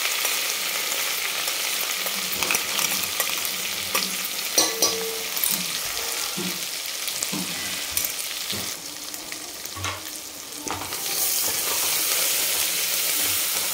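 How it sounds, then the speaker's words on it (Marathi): Coarsely ground ginger, garlic and coconut paste fries in oil, giving a continuous loud sizzle and hiss broken by stirring clatter, with no one talking. "त्याच तळून घेतलेल्या तेलामध्ये आपल्याला हे अद्रक, लसूण आणि खोबरं याचं जे वाटण आपण भरड केल्यासारखे केलेलं आहे ते आपण तळून घेणार आहे"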